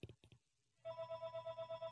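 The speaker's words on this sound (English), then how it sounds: "someone answer the phone, please." A telephone rings with a rapid, pulsing electronic trill that starts abruptly after a few short soft knocks and then repeats steadily at moderate loudness, with no talking over it.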